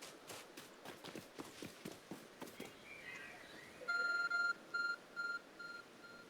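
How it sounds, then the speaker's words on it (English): Repeated electronic beeping from a glowing object in Pokemon Legends: Arceus, a series of clear, evenly spaced tones that come in after a run of footstep-like clip-clop sounds. "There's a glowing beeping object over there."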